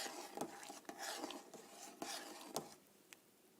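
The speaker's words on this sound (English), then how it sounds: "Stir it up." Kadhi being stirred in a cooking pot after salt goes in, with quiet scraping and clinking of a spoon against the pot in a few short strokes, fairly faint, with no talking.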